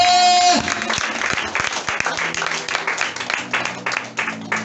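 A church congregation claps and cheers in praise of the Lord, a dense wash of applause that starts just after a sung note fades and keeps going with sharp hand claps standing out.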